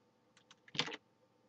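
Computer keyboard keys click during cut-and-paste editing: a few light, sparse taps followed by a quick, louder cluster of clicks, close by and alone in a quiet room.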